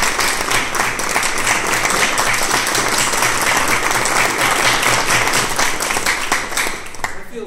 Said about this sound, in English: Let's give ourselves a round.